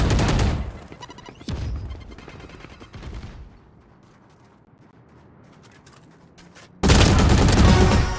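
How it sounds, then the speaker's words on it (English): A video game firefight: loud bursts of rapid gunfire crackle up close, fade to a quieter lull, then a grenade blast erupts and roars on to the end. "Grenade."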